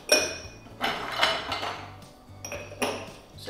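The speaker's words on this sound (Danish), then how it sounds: "Jeg har bare nogle isterninger klar her." Ice cubes clink and clatter into a glass for homemade lemonade, several sharp, bright knocks in quick uneven bursts, close by with brief pauses between drops.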